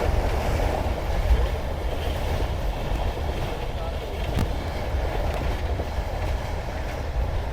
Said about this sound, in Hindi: बहुत ही खूबसूरत सफ़र जारी है पाकिस्तान एक्सप्रेस